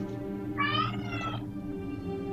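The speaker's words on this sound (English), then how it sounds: "Those cats are loose outside again." Cats meow outdoors in the video game Fran Bow, a short cluster of high, wavering cries rising over a steady low ambient hum, then fading back into the background.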